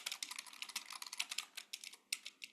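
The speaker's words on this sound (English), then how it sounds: "I can just freely type like" Fingers type quickly on a computer keyboard, producing a quiet, close run of crisp key clicks in uneven bursts with brief pauses and no voices.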